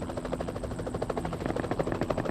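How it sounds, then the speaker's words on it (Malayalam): A helicopter landing in the video game BGMI gives a faint, rapid rotor thudding that pulses steadily and sits low in the background. "നിന്റെ അടുത്ത് ഹെലികോപ്റ്റർ ഇറങ്ങി."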